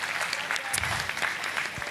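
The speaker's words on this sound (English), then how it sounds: "So can we give them all a round of applause, please?" Audience applause at a school education event, a steady wash of clapping from a crowd held at even loudness throughout, with no voices over it.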